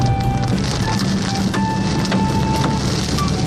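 Large hailstones pelt a car during a storm, a dense, loud, continuous clatter of hard impacts on the body and roof, heard from inside the vehicle with sharp individual strikes standing out.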